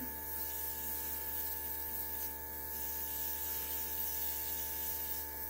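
An airbrush sprays makeup with a soft, continuous hiss over a faint, steady hum, unbroken throughout.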